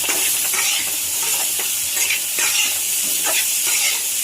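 Steady sizzling of vegetables sautéing in a pan on a tawa, with occasional stirring scrapes, continuous and close with no voices.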